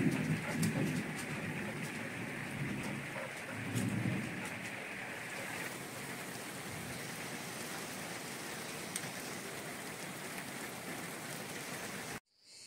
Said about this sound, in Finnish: Ukkonen jyrisee.